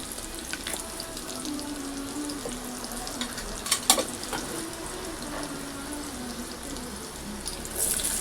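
Asafoetida tempering fries in a pan with a soft, steady sizzle and a few sharp crackles near the middle, close and moderately loud, with no voices.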